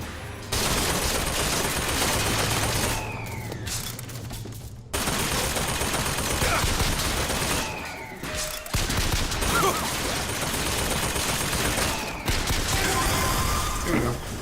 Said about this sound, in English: Oh, I keep accidentally shooting.